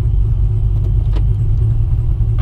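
A car engine fitted with a ProCharger P-1SC-1 supercharger, making about 615 horsepower at the wheels, gives a loud, steady, deep rumble heard from inside the car, with faint rattles on top.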